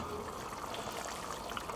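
Szegedine goulash simmers in a pot on a barbecue with the lid lifted, giving a steady, soft bubbling and fizzing hiss that continues evenly at close range.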